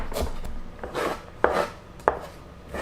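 A knife chops garlic on a board in a few sharp, separate strokes with short pauses between them. The cuts are close and clear, with no voices.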